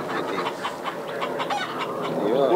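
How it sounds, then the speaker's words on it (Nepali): Local chickens cluck steadily on a Nepali poultry farm, with several hens close by and a brief rising call near the end, no talk. "कुखुरा चाहिँ कुन कुखुरा पाल्नु भएको छ लोकल लोकल"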